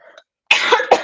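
A single hoarse cough from a person who has been sick, close and loud, followed by a second short cough, after a brief faint breath.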